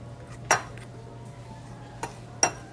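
A spoon mixes flour and cornstarch in a bowl, giving three sharp, quiet clinks against the bowl over a faint steady hum.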